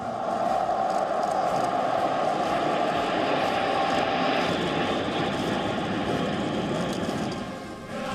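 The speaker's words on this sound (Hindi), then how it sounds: "ऊपर चाइनीज मिलिट्री के हेलीकॉप्टर्स और जेट फाइटर J-20 का फ्लाई पास्ट हो रहा था।" Chinese military helicopters and J-20 jet fighters fly past overhead during a flypast, producing a loud, continuous engine roar that holds steady and dips slightly near the end.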